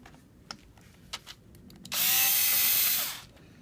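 A power screwdriver backs out the cover screws on a Hightex Cowboy 3200 sewing machine. After a few light clicks and taps, a single loud, steady whirring burst runs for about a second and a half and then stops, with no talk.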